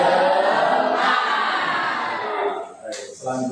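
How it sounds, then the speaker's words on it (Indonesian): A classroom of students giving a spirit clap chant during a lesson, loud dense group voices and rhythmic clapping filling the room, fading toward the end with a few separate voices. "Tepuk semangat."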